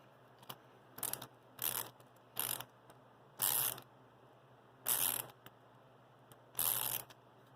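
A ratchet set to loosen clicks through a series of short, separate bursts with pauses between, close and fairly loud, alongside work splitting wood for black soldier fly egg-laying.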